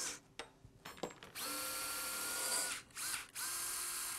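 A surgical drill drives a pin during a patellofemoral focal resurfacing procedure, a few short bursts giving way to a steady high whine that dips briefly twice before resuming, close and clear.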